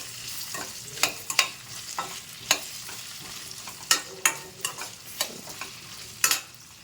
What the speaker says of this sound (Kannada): ಆಲೂಗಡ್ಡೆ ಹಾಕ್ಕೊಂಡು ಅದು ಸ್ವಲ್ಪ ಫ್ರೈ ಆಗಬೇಕು ಚೆನ್ನಾಗಿ.